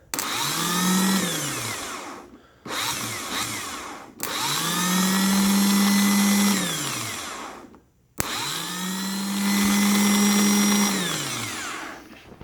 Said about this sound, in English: Make sure you're holding the starter motor, you'll get a good arcing effect like that.